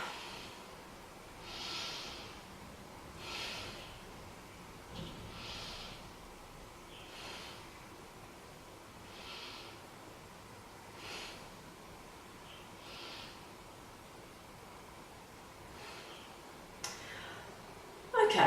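Slow, deep breaths during a beginner yoga session for neck tension, each soft airy inhale and exhale recurring about every two seconds, close and quiet over a faint background hiss.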